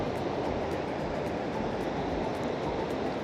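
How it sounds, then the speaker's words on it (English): A waterfall in Norway, a steady, dense roar of rushing water that holds level throughout, with no voices over it. "Beautiful, beautiful waterfall."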